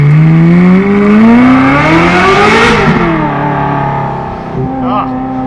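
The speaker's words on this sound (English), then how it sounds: "You got that flat plane crank just screaming" Ferrari F355 flat-plane crank V8 wailing at high revs, pitch climbing and easing as it drives past an overpass, loud and close with someone talking over it.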